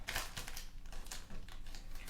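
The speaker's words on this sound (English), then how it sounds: "So I just take the scissors and I just cut that off" Scissors snip off the red plastic zipper strip of a bag during a fresh flower arrangement, giving a run of sharp, close, crisp clicks and crunches with no talking.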